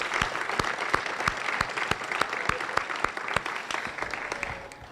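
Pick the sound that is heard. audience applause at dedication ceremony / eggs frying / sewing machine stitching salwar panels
audience applause at dedication ceremony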